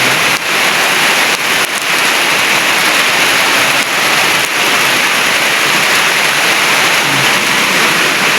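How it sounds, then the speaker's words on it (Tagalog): Heavy rain pours down in a steady, loud, unbroken hiss that fills the whole stretch, with no voices over it. "Lakas na ulan guys"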